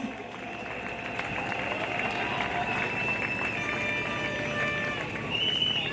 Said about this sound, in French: Pouvons-nous applaudir?